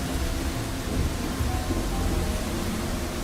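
Rain effect for a spooky river story: a steady, dense hiss of heavy rainfall with a low rumbling undertone, continuous and even with no voices.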